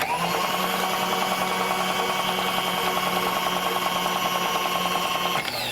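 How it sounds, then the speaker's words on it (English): A milling machine whirs with a steady high-pitched drone and a fine rhythmic chatter as a spotting drill cuts a chamfer for a 5mm screw hole, stopping near the end. "the spotting drill will form a chamfer for the 5mm screw hole"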